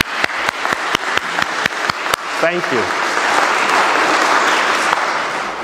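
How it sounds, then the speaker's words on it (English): A few sharp claps give way to a swelling round of applause from a church congregation, with a brief spoken word near the start. "Clap for her, please."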